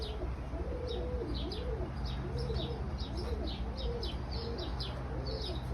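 Pigeons coo during a dove hunt using dropper birds outdoors, a soft, repeated stream of rolling coos with thin high chirps mixed in, steady and moderately quiet against constant open-air background noise.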